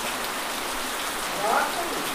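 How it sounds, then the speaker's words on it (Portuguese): Steady, dense rain pours down in a constant hiss, with a brief brighter splash or drip sound midway. "que chuva linda. Tá engrossando"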